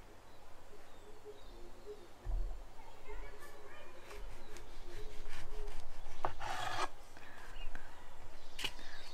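A knife cuts through ripe tomatoes, giving close, soft rasping and scraping strokes that build and repeat, with a faint voice low in the background.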